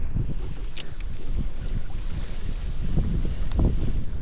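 Strong wind buffets the microphone out on a lake during a July pike-fishing trip, giving a steady low rumble and roar from a small boat, with a few faint knocks.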